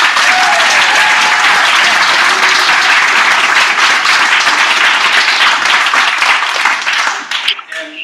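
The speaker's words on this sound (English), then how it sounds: "Let's have another round of applause for Taiko Kai." A large audience applauds loudly and steadily after a taiko drumming group's performance at a panel event, the dense clapping tapering off near the end.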